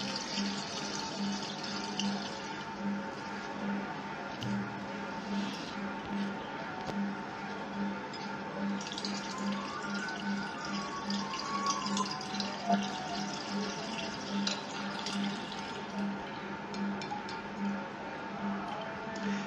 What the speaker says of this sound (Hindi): आपको पानी ऐसे भरना थोड़ा उसको स्लाइड करके धीरे धीरे